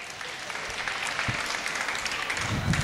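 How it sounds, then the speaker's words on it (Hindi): An audience at a mushaira poetry recital in Bhiwandi breaks into applause, a moderately loud, continuous patter of many hands with a few heavier thumps mixed in. "अगर अच्छा लगा हो तो तालियां बजा दें।"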